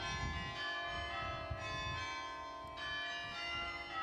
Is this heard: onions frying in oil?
no